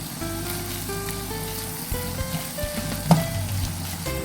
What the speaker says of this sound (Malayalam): ഇനി നമുക്കിതിലേക്ക് തക്കാളി ആഡ് ചെയ്യാം